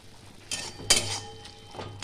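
A pot lid lifted off simmering greens in water, a sharp metallic clink and rattle of cookware over a faint bubbling hiss, with a few softer knocks after.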